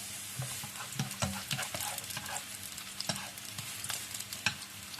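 Shallots and garlic fry in a pan with a quiet, crackling sizzle, punctuated by small irregular pops and occasional stirring clicks.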